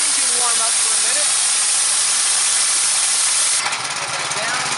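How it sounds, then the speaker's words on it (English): Engine of a DeWalt 3835 wet blasting unit warming up, a steady loud hiss and rumble that holds evenly, with a brief shift in tone near the end. "Let's let this engine warm up for a minute."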